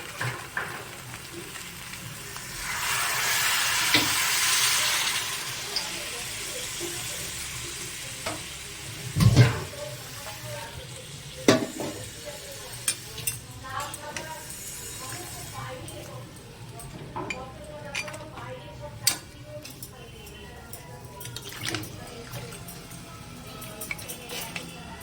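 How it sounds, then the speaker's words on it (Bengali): Water poured into a pan of fried fish heads and potatoes for a Bengali muri ghonto, a brief hissing burst followed by gentle sizzling, a metal clink and scattered clatter, with a voice speaking over parts of it. "এবার আমি এর মধ্যে জল দেবো"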